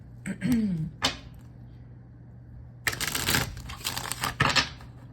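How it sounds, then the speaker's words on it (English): A tarot card goes back into the deck and is shuffled: a brief soft rustle early on, a pause, then a run of close, crisp papery riffling bursts near the end. "I'm going to put it back in the deck"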